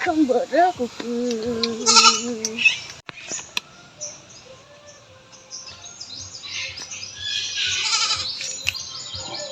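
A goat bleats several wavering, close calls, then people talk while birds chirp in the background.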